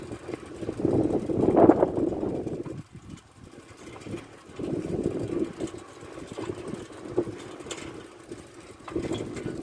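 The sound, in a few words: riding a vehicle outdoors, engine and wind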